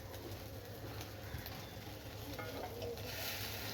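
An egg cracked over chopped chili and onion sizzles and spits as it fries in a little oil, with a steady close-range crackle and occasional stirring.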